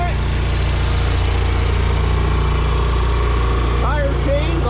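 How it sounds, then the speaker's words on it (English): An Allis Chalmers 720 garden tractor fitted with a 5-foot front blade and tire chains runs loud and close, a steady rhythmic engine thrum, while someone talks over it. "Right there is the Allis Chalmers 720. Good little tractor."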